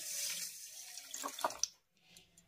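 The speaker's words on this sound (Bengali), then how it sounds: "আর দিয়ে দেবো একই বাটির হাফ বাটি জল।" Water poured into a pan holding sugar and orange juice for orange-peel candy syrup, a running splash close by for about a second and a half, then a few clinks and a quieter trickle.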